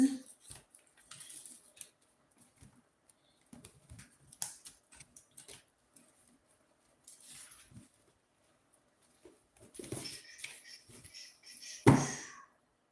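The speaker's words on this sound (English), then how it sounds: "So look at these cards shuffled." Soft, scattered papery flicks and riffles of tarot cards being handled and shuffled, quiet and close, ending with a sharper snap of the deck.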